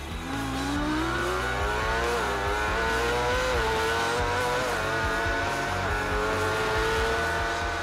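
A race car at Oliver's Mount circuit in Scarborough brakes hard into a tight loop, then accelerates hard downhill, its engine note climbing steadily through the gears, loud and close with a faint tyre squeal and no talk.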